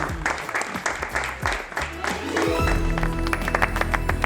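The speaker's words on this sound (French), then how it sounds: "on peut applaudir Gus qui obtient le meilleur résultat moyen" An audience claps for an apprentice auto-body repairer at a training-center competition; brisk, fairly close applause for a couple of seconds, then music swells in beneath the fading clapping.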